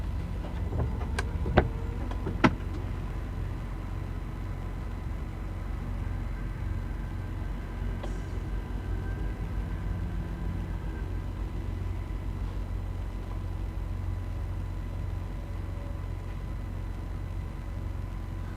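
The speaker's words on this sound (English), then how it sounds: "trucks roll by" Continuous low road rumble of traffic rolling along the I-70/I-75 interstate in Ohio, with a few sharp clicks early on and faint passing tones, no voices.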